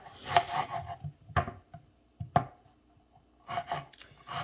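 A strong onion chopped with a knife on a cutting board for homemade salsa: a few sharp, separate cuts with pauses between them, close and fairly quiet, with no talking.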